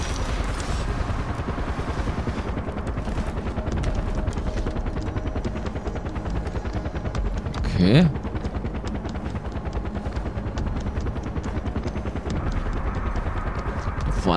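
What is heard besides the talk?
video game helicopter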